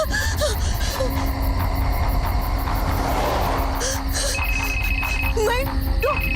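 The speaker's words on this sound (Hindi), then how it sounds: "डॉक्टर पलाश का फोन" A phone rings with a repeating electronic tone amid busy background noise and scattered voices, moderately loud and close, in a Hindi TV suspense serial.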